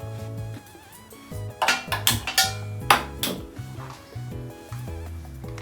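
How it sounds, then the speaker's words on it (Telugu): A kadai pan set down on a stove and the stove switched on while cooking ariselu in a home kitchen; several metallic clanks and knocks in the middle, set against a faint background tone. "ఇప్పుడు మనము అరిసెలు చేసుకోవటానికి కళాయి పెట్టిన కళాయి పెట్టి స్టవ్ ఆన్ చేసి"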